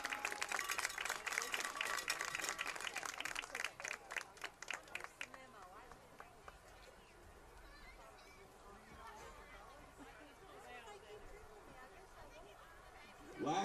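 Crowd applause for senior cheerleaders leaving the field at a high school football game between Rivercrest and Piggott, a dense, steady clapping from the stands that fades into distant chatter and murmur.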